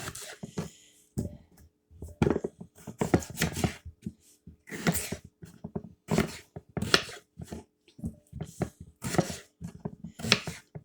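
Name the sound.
knife cutting potatoes into pieces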